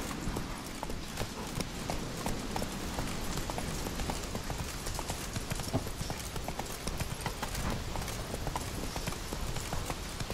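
Hooves pound in a rapid, even rhythm as Roach gallops through The Witcher 3, close and continuous under a noisy, rushing backdrop, with no voices.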